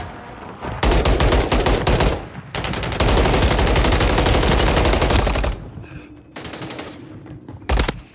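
Sustained automatic fire from an AMR 9 SMG in Warzone 3 hammers out loud, rapid bursts lasting several seconds, broken by short pauses and a final brief volley.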